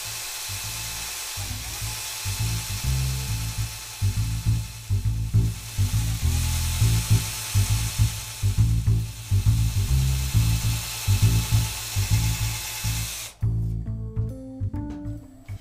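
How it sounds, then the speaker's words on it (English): A drill bores angled pilot holes in wood rings for a scroll saw bowl, a loud whining drone in repeated bursts for over thirteen seconds before stopping abruptly. "Now I need to drill the pilot holes at the same angle."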